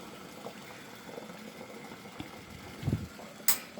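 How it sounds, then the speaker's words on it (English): Bagels simmering in a pot of water on reduced heat, a quiet steady bubbling with a few soft clunks and a brief clatter near the end. "to boil water and throw the bagels in and have them in on a minute per side"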